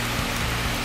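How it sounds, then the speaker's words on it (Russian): Rain falls steadily near a waterfall at Cheow Lan Lake in Khao Sok, Thailand, a dense, even hiss of drops with no break throughout the short span. "Идет дождь."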